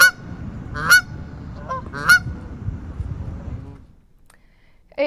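Duck quacking plays as a comic sound effect in a news bulletin: three loud, nasal, honking quacks spaced about a second apart, with a faint fourth call at the very end.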